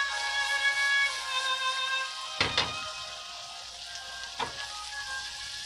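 Asparagus frying in butter in a pan makes a bright, steady sizzle heard up close, broken twice by a soft clunk or scrape of a utensil against the pan.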